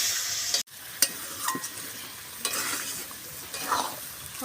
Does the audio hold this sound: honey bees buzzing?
no